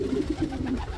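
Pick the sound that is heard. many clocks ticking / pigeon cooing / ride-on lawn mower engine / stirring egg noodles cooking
pigeon cooing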